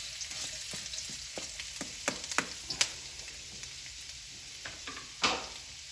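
Pork tenderloin fries in oil already flavoured with garlic, ginger and onions for pork fried rice, giving a soft constant sizzle broken by sharp clicks and scrapes of stirring, with a louder hiss flaring near the end and no talk.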